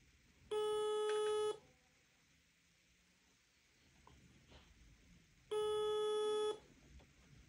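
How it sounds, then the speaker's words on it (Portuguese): A phone call to Curitiba in Paraná rings unanswered, two long electronic ringback tones about a second each spaced several seconds apart, clear over faint background noise. "Só chamando."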